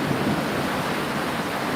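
Hail pounds down outside in a dense, unbroken roar of hissing noise that stays loud and steady throughout, with no talking.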